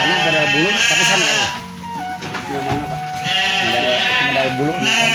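Garut sheep bleat loudly and repeatedly, several animals calling close by in long quavering cries, with people talking among them.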